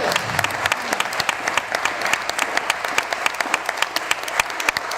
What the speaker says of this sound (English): let's give all of our retirees a nice round of applause